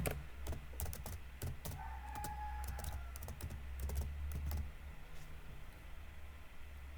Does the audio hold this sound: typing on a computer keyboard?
yes